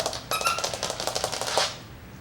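Coton de Tulear puppies' nails clicking and scrabbling on a plastic kennel, a quick rattling patter of light taps lasting about two seconds, close and fairly loud.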